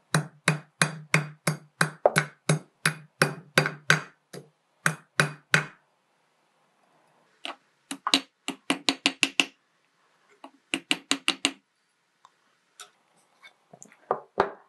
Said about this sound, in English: my bangle with my rawhide mallet to give myself a nice